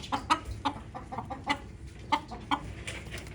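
Several chickens clucking in short, uneven bursts, frightened by a cat sitting in a cool spot nearby, fairly close but quiet, with a faint background hiss.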